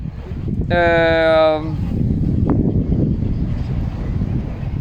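Steady wind at the sea rushes and rumbles against the microphone, with a short tonal chime sounding near the start and no talking.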